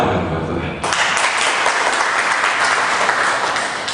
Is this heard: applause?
yes